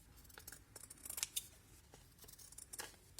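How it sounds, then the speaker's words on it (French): A small pair of scissors trims excess paper off a handmade vintage back-to-school card decorated with plant elements, giving a series of close, crisp snips in irregular clusters. "Un petit ciseau, je coupe ce qui dépasse."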